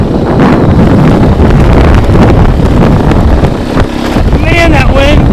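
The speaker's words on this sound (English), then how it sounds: "Man, that wind and snow is hurting my face." Blizzard wind with blowing snow roars loudly and steadily against the microphone outdoors, with brief vocal sounds near the end.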